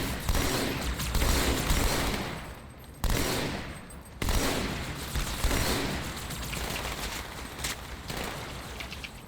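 Halo video game gunfire rattles in dense, sustained automatic bursts, loud and close, with a brief break near the three-second mark before the shooting picks back up.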